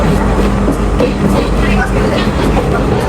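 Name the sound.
train picking up speed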